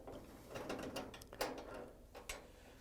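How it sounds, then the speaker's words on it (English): A 5/16 nut driver turns out screws from the top brackets of a Maytag dryer, giving a series of close, quick metallic ratcheting clicks and taps over a few seconds. "So we're going to use a 5/16 nut driver to take out the screws."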